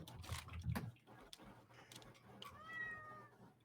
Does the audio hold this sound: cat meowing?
yes